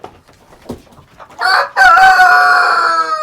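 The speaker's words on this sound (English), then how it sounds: "Yeah, I hear you, rooster." A rooster crows loudly and nearby, one long drawn-out call following a few faint clucks and rustles.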